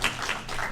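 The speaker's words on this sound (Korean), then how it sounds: "우리 격려의 박수" Church congregation giving a brief burst of encouraging applause, a dense wash of many hands clapping together, steady and moderately loud for under a second.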